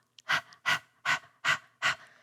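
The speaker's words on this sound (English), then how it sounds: "You're going to stick your tongue out like a dog and just pant in and out through the mouth." Breath of fire exercise: a person pants forcefully in and out through the mouth with tongue out, five sharp, evenly spaced breaths, close and clear with silence between them.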